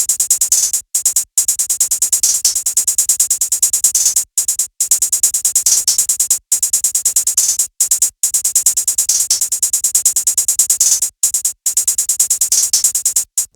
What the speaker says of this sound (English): Then it's just this hi-hat pattern, one step with a few notes taken out and then some rolls.